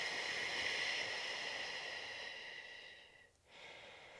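A long, steady exhaled breath during pregnancy yoga, close and airy, slowly fading out before a short pause and a fresh breath beginning.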